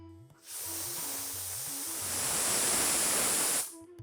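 Pressure cooker with lentils, turmeric, salt and water on a low flame lets out a loud, steady hissing steam whistle lasting about three seconds, swelling slightly near the end before cutting off, with faint talk just before and after.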